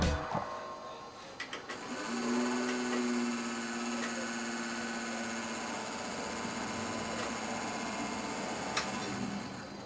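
A stock computer processor fan, just fitted as a replacement in an old gaming PC, runs with a steady whir and faint hum, joined by a few ticks and a brief higher tone near the start.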